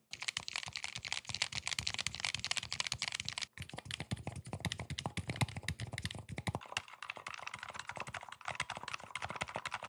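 Fingers type fast on mechanical keyboard switches. The close, crisp clicks and clacks come in a dense stream, with a brief pause near the middle and then continue at a steady pace.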